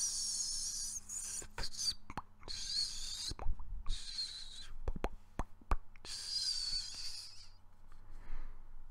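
A voice imitates pepper jack cheese melting, with breathy hissing whistles broken up by wet pops and clicks, uneven and fairly quiet, alone with no speech.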